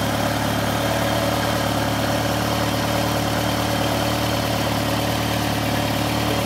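A Ferrari 308 engine with Bosch CIS fuel injection idles loudly and continuously, a constant low hum with mechanical vibration and no voices.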